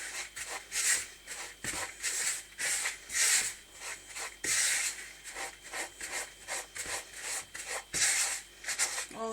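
A spatula scrapes wet chocolate mint bath bomb mixture into a bowl, continuous close rubbing and rasping strokes in uneven waves.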